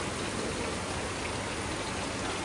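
Steady, dense rainfall patters continuously on surfaces, a constant hiss with no pauses or voices.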